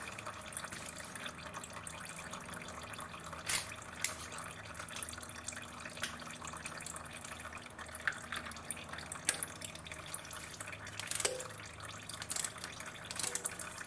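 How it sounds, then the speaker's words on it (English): Oil dripping from the filter area of a 2004 Honda Accord 2.4 during an oil filter change, a faint patter of scattered drips into a pan over a steady low workshop background, with a few sharper taps standing out. "some oil will drip from there, so make sure you have your oil pan underneath"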